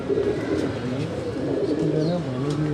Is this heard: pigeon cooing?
yes